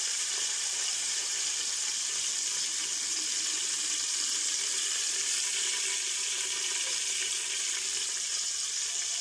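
Water is poured into a hot pot of rice with cumin toasted golden in oil, making a steady hissing, rushing flow with sizzle, continuous and close for several seconds.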